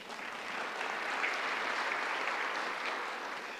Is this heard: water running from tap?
no